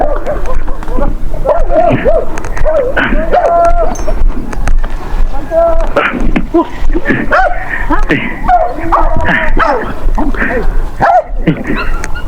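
A dog barks and yips several times close by, mixed in with people chatting over steady outdoor background noise.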